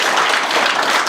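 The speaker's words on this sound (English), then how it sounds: "So let's everyone give yourself a round of applause." Audience at a hackathon applauding, a dense and steady wash of many hands clapping at close range.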